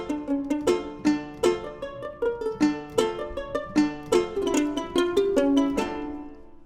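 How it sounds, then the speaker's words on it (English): A sampled charango from the Labs instrument library plays a quick strummed and plucked pattern of bright, ringing notes, close and clear, with no voices. "the charango, which sounds like this."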